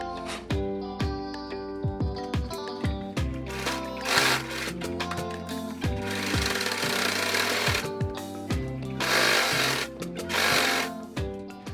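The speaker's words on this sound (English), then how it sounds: "I'm going to sew that line right there" A sewing machine stitches a seam along a fabric line for a kid's room makeover, its fast rhythmic needle clatter running in close bursts over steady background music.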